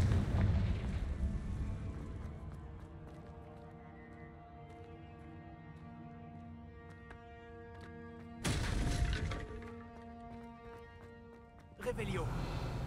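A Confringo blasting spell goes off in Hogwarts Legacy as a deep, booming explosion at the start, with two more loud blasts later. Sustained musical tones play underneath.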